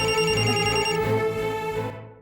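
A telephone rings with a steady electronic bell tone, loud and close, sounding alone for about two seconds before cutting off abruptly, in a domestic setting.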